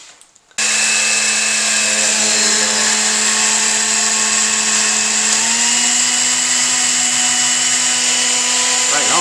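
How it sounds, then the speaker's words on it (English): A blender runs continuously at high speed, mixing oatmeal into crepe batter, loud and steady after a brief quiet start, with a slight pitch rise partway through. "3/4 cups of oatmeal, all in the blender."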